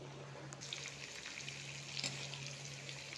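Nendran banana chips frying in hot oil, a continuous close sizzle with a faint steady hum underneath and a couple of brief louder crackles, no voices.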